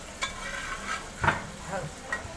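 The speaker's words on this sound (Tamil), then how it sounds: "நன்றாக கறியை வதக்கவும்." Meat curry sautés in a pan with a constant soft sizzle. A few distinct scrapes from the stirring utensil stand out, close and moderately quiet.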